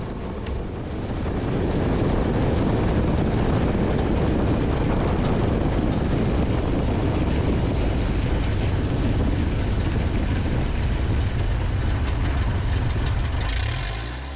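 A Carbon Cub light airplane's engine runs up to full power for a crosswind takeoff, a loud, steady roar that holds throughout with no voices.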